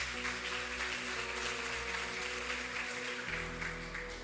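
A congregation at a conference applauds loudly in a steady, unbroken wash of clapping over sustained organ-like chords, all close and even in level.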